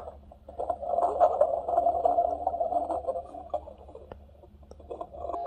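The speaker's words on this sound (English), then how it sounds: "This is nature melody." A baby crib mobile projector plays its nature melody, a continuous soft mid-pitched warbling tone with light ticking textures, close and steady over a low electronic hum.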